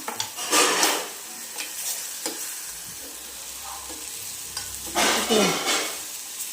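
Salted food fries in a pan for a Motte Masala, with a continuous sizzle broken by louder bursts of scraping and stirring near the start and again toward the end.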